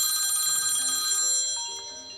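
A telephone rings with an incoming call from an unknown number, a bright, tonal electronic ringtone, close and fairly loud, fading slightly toward the end with no talk over it.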